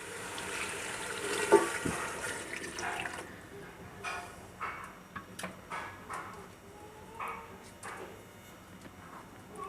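Water, 600 ml, poured into a pot of mutton paya with chopped ginger in a kitchen, a brief splashing pour early on followed by scattered clinks and small knocks.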